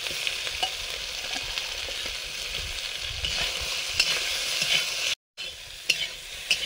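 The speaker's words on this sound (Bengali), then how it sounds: "কচুগুলো হালকা ভেজে নিয়েছি" Taro pieces fry lightly in a pan, giving a steady sizzle with occasional stirring clatter, close and unbroken apart from a momentary gap.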